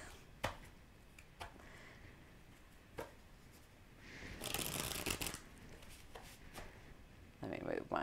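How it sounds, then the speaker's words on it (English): Tarot cards being shuffled by hand, a soft riffling burst in the middle and a brief flurry at the end, separated by light taps, close and quiet, with someone talking nearby. "I'll shuffle them again in front of you guys."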